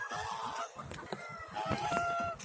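A hungry pet goose honks and calls in short repeated bursts, close and fairly loud, with the cackling of other fowl such as ducks mixed in.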